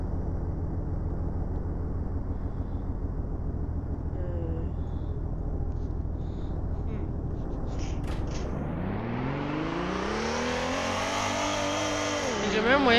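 A car in a French-language video game about running a car business drives and revs, with a steady engine drone that climbs in pitch near the end while a voice talks over it.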